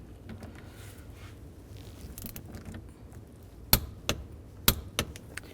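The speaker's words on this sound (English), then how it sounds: "Now I'm going to torque this nut to 29 foot-pounds" Torque wrench tightening the nut on a 2003-07 GMC Yukon steering wheel to 29 foot-pounds: a few sharp close clicks, spaced irregularly, ring out near the end over a quiet low rustle.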